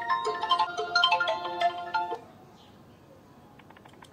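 An incoming call sets off a phone's melodic ringtone, bright tonal notes repeating for about two seconds and then cutting off, followed by quiet room background.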